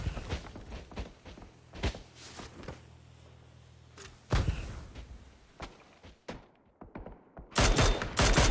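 In a PUBG match, scattered gunfire crackles in short bursts and single sharp shots, some near and some distant, with quiet gaps between and a loud flurry near the end.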